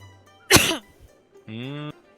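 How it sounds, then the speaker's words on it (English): A single sharp cough bursts out close and loud, followed moments later by a sustained voiced sound, with a quiet room around it. "Oh, I coughed, but thank you."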